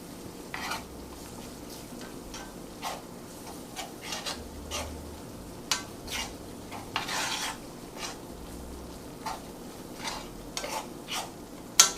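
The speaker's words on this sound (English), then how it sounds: "we're going to keep stirring this and get it all in here" Chicken gravy browning in a pan is stirred with a utensil, giving repeated soft scrapes and taps over a low steady sizzle, close and moderately quiet with no talking.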